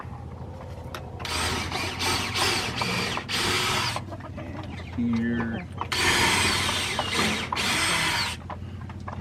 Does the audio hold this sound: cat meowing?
no